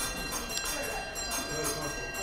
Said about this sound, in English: you've heard the bell go off while I'm talking